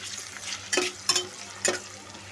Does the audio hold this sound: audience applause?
no